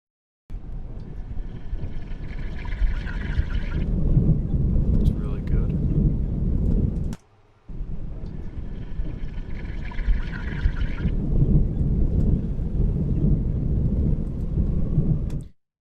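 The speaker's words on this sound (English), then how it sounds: "we're gonna start mixing with the actual water sound" Water sound effect being layered into a sound design mix: a steady, dense rushing wash like heavy pouring rain or surf, played in two long passes with a brief gap between them.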